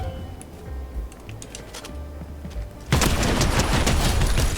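Rapid automatic gunfire in the Fortnite video game bursts in loud and dense near the end, after a quieter stretch of faint background game noise and clicks.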